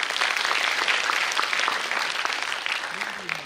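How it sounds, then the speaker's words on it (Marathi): Applause from a live audience at a performance of a powada, a Marathi ballad, a continuous dense clatter of clapping that fills the whole stretch at steady loudness with no voices over it. "तेवढ्याच मोकळ्या मनाने आणि दिलखुलासपणे टाळ्या सुद्धा होऊन जाऊ दे."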